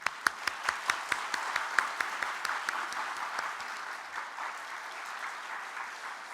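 A church congregation applauds newlywed Kim Chang-su at the Sunday service, opening with distinct rhythmic claps that swell into a sustained, even round of applause from many hands.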